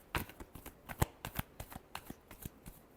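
Tarot cards are shuffled close up in a rapid run of crisp, irregular riffling flicks and taps over three seconds.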